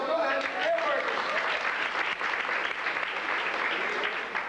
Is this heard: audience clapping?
yes